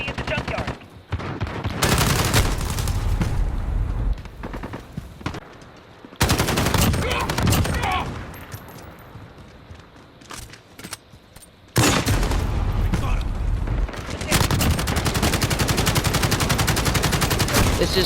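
An AUG rifle lays down suppressive fire in a video game, with long loud bursts of rapid automatic shots broken by short pauses, and game voice callouts faintly underneath.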